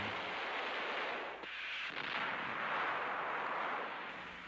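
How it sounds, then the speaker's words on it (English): Dense, continuous rumbling of distant battle and artillery fire fills the clip, a broad roaring wash with a few sharper thuds, loud and unbroken, with no voices. "You get the sound of battle."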